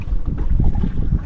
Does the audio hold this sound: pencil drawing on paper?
no